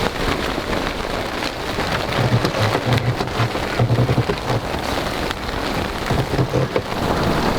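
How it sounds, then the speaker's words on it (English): Heavy rain pours down in a squall with strong wind over sheltered water aboard an Albin Vega sailboat, a dense, continuous hiss of drops drumming on surfaces with low rumbles beneath, loud and unbroken throughout. "the rain is just pouring down and really heavy wind as well"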